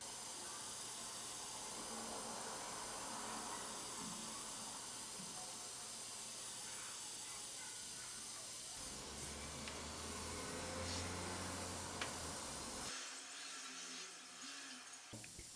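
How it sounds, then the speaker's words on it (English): An airbrush sprays solvent-based silver metallic paint straight from the bottle, giving a steady broadband hiss that runs unbroken for most of the clip, with no talking over it. "why don't we go ahead and put a little bit of silver metallic into the airbrush and see how that performs"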